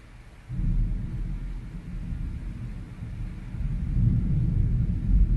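Distant thunder from an approaching storm rolls as a deep, continuous low rumble. It starts abruptly, then swells and grows louder toward the end, with no voices.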